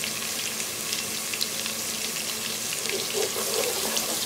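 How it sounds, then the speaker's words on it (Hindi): Onions and cumin seeds frying lightly in a pan for matar pulao, a soft, fairly quiet sizzle and crackle that runs steadily throughout with no talking. "इसमें थोड़ा सा मैं क्यूमिन सीड्स डाल रही हूँ अनियन फ्राई करते हुए"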